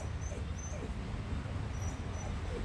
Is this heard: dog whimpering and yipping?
yes